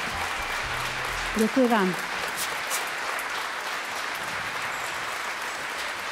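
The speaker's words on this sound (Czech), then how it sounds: "Děkuji vám za krásný potlesk." Concert audience applause at a Christmas concert by an opera singer, a steady broadband clatter of clapping throughout, with someone briefly speaking over it.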